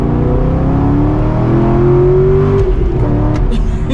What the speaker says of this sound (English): I gotta give you guys one good pull in this car